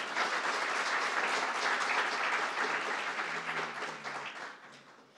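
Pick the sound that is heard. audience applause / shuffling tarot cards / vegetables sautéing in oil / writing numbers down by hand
audience applause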